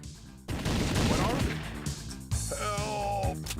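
Light gun shots fire in the arcade shooter House of the Dead 2, with sharp bursts of game gunfire and impact effects mixed with music and game sounds.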